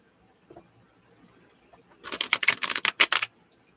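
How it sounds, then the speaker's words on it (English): Plastic tarot cards are shuffled on a cloth, giving a quick burst of riffling, rapid clicking patter after a quiet pause, close and fairly loud. "And they catch on that cloth when I'm shuffling."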